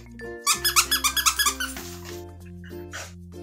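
Rubber dog toys from a monthly subscription box give a quick run of about ten loud, rhythmic squeaks close by, then fall silent.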